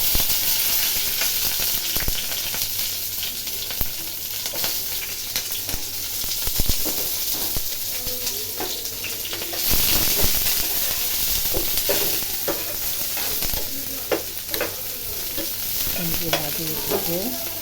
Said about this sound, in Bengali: এখন এসে মাছটা ভাজবো আর এখানটা কুমড়ো ভাজি করবো।